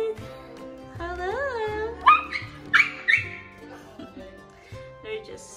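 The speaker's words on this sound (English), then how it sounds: "The dogs are going crazy." Dogs whimper and yip with excitement in a new house. High thin whines and sharp yelps rise over steady background noise, fairly close, with voices speaking through part of it.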